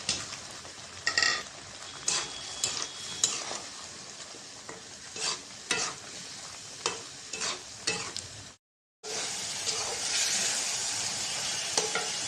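Pointed gourd fries in a salted spice paste while a spoon scrapes and stirs the pan in repeated bursts over a steady sizzle, with a brief drop to silence near the end before the frying resumes.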